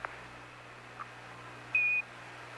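On the Apollo 11 lunar landing, the onboard computer raises a 1202 program alarm, heard as one short, steady electronic beep over a constant low hum.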